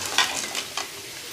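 Cashews fry in a pan with peanuts while making coconut rice, giving a brief hiss of sizzling with a few quick stirring scrapes close by and no talk.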